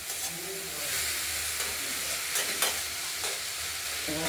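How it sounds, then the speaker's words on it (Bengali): Radish with mustard seeds, salt, turmeric and slit chillies stir-frying in a pan, a steady close sizzle with occasional scraping stirs and hissing bursts. "বাকি মূলোটা আমরা কুড়িয়ে দিয়ে দিলাম নুন হলুদে দিয়ে দিয়েছি আর লঙ্কা চিড়ে দিয়েছি সর্ষে ফোড়ন দিয়েছি এবার আস্তে আস্তে এটা অল্প আছে নেড়ে নেড়ে রান্না করবো"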